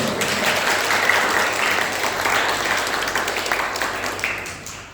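Steady applause from a church congregation during a Sunday service fills the room, dense and continuous, fading slightly toward the end.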